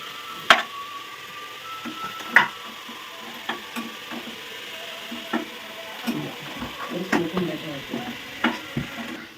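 Onions sauté in a hot pan for Thalassery dum biryani, a soft sizzle under repeated scraping and knocking of a spoon or spatula against the pan, the sharp clinks coming irregularly and growing busier toward the end.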